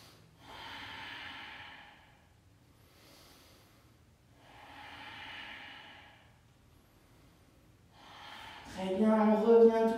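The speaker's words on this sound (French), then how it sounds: "Respiration Ujjayi." Ujjayi breathing during a morning Vinyasa yoga practice: slow, audible oceanic breaths in and out, three long rhythmic cycles at close range, followed by a brief louder sound at the end.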